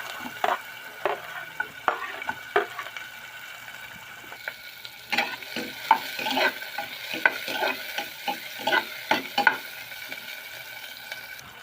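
Onion sautéing in leftover fish-frying oil in a home kitchen, a soft sizzle under repeated scraping and stirring strokes of a utensil in the pan, intermittent and close.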